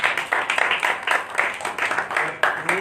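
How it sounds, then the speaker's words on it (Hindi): Congregation at a night prayer meeting claps loudly in a steady rhythmic beat, sharp repeated claps close and energetic throughout. "जोरदार ताली बजाइए।"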